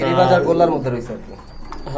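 Giribaz native pigeons coo in a close, low, rolling murmur, mixed with a voice talking over them during the first half.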